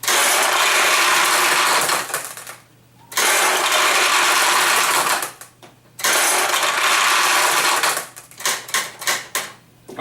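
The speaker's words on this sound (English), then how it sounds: "the way to get those out is just push down on this lever" Pachinko balls pour out of a Sankyo pachinko machine as its release lever is pushed down, giving loud rattling metallic cascades in three bursts separated by short pauses, the last one breaking into uneven clatters.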